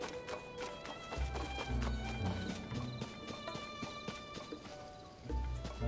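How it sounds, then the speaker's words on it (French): Horse hooves clop in a quick run of thuds amid a busy video-game scene with music and effects, the hoofbeats loudest near the start and again at the end. "Où est le cheval? Il est censé être juste là, mon cheval."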